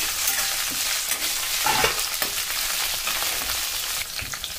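Green chillies fry in a pan for a tomato and ridge gourd chutney, a continuous loud crackling sizzle with scattered pops and stirring scrapes, close and unbroken, with no voices.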